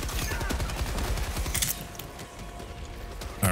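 Machine gun fire in the video game Helldivers, rapid repeated shots during the first half that then stop, followed by a quieter stretch and a sharp burst at the end.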